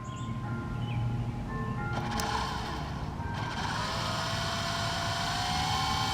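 A small remote-controlled toy helicopter flies nearby, its whining rotor pitch shifting and rising as the throttle changes over a steady background hum.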